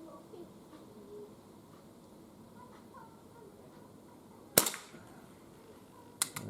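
A Crosman 2240 CO2 pistol fires outdoors with a single sharp, loud crack after a quiet stretch, followed moments later by a fainter, shorter snap.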